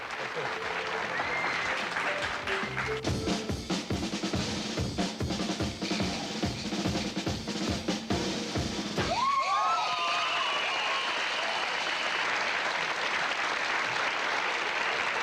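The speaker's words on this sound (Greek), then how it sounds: "Χειροκροτήστε το φίλο μου." A 1995 Greek television variety show's studio audience claps in a rhythmic, unison beat for several seconds, then breaks into looser applause and cheering. A voice and a music sting come in partway through.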